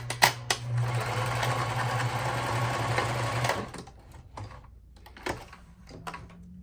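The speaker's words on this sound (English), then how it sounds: "So now I'm just sewing the tag on" A sewing machine stitches a tag onto a mesh hoodie, running in one loud, steady burst for about three and a half seconds before stopping, followed by a few soft handling clicks and knocks.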